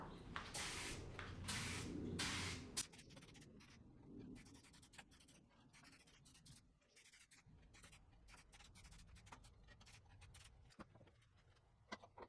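A spray gun applying moly resin coating gives bursts of hissing spray early on, then quieter handling noises and small clicks at low level.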